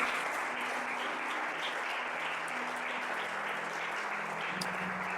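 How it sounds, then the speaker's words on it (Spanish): Congregation applauding during a church service, a steady dense wash of clapping that holds loud and even for several seconds with a faint tonal hum beneath and no voices over it. "Démosle un fuerte aplauso al Señor."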